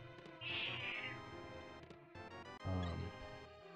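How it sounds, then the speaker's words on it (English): A 15-year-old female house cat meows up close, two drawn-out calls with a gap between them, fairly quiet and alone in an indoor room. "My cat is 15 years old."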